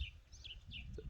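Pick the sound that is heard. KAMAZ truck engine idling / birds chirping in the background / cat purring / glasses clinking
birds chirping in the background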